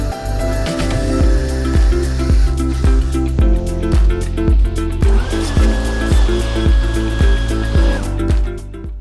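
A counterbore tool cuts into a hole in an LS engine block, giving a close, loud grinding whir that pulses in a regular rhythm of roughly ten strokes, with a thin ringing tone partway through.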